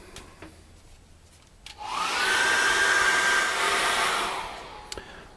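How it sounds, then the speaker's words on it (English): A hair dryer switches on and blows with a steady, loud whooshing roar for a few seconds, then cuts off. "I'm going to dry that off again with a hairdryer."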